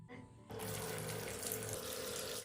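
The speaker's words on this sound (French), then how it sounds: "je vais ouvrir le robinet pour mouiller la brosse." Water from a bathroom tap runs steadily into a sink to wet a toothbrush, a close, constant splashing rush that starts abruptly after a brief quieter moment.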